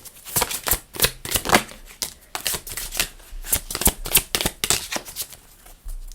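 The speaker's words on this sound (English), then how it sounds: "I have to stretch to shuffle on camera" Tarot cards being shuffled by hand, close and crisp, with repeated rapid riffling bursts and soft slaps in an uneven rhythm throughout.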